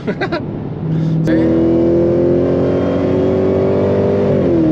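A Dodge Charger Hellcat's 6.2 liter V8 with open exhaust blips twice, then surges into a loud, sustained high rev that holds steady and close before easing slightly at the end.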